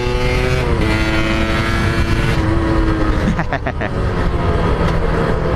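A rebuilt Suzuki Satria Hiu motorcycle engine revs steadily and loudly up close, its pitch climbing, then drops briefly before revving again, with some talk mixed in.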